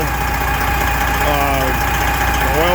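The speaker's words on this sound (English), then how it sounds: "Truck is running amazing." A loud, continuous truck engine rumble runs at a steady pace on a dyno after a rebuild, with a voice speaking briefly over the mechanical drone.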